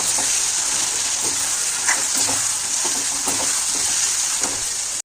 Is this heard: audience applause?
no